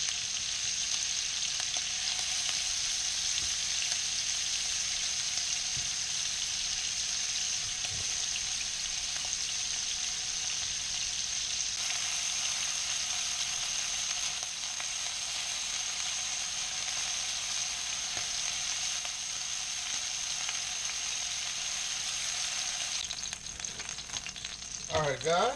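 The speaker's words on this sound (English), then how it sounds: "when you're laying that steak in there, just lay it in there and let it cook" Steak sizzling hard in a hot pan on a home stove during beef stroganoff preparation, a steady, dense, close crackling hiss that runs unbroken for the whole stretch, with occasional faint scrapes and clicks and no talking.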